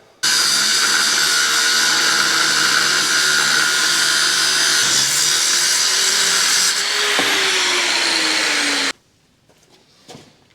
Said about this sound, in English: I do need to still cut this washer off, so just going to chop that off